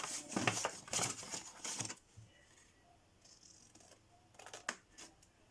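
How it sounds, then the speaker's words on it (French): Scissors snip through paper for a mini album craft, with a quick burst of close crisp cuts at the start, a quieter pause, then a couple more snips near the end. "Oh, j'ai loupé ma découpe."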